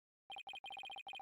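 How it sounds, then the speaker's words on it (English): Phone ringtone in the Phoenix Wright: Ace Attorney Dual Destinies video game, a quick run of bright electronic beeps in short bursts with brief gaps, clean and fairly quiet. "he hasn't even changed that ringtone"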